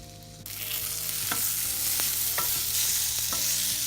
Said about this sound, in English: these guys are popping and there are hot tomato peels popping out a little bit